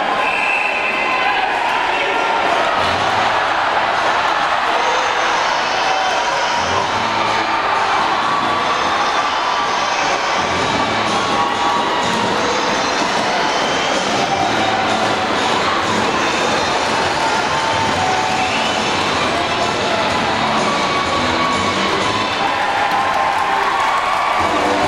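An ice hockey crowd at a Bison versus Sheffield Steeldogs game roars, cheers and applauds during a fight on the ice, a dense, loud, continuous din with shouting throughout and a commentator talking over it.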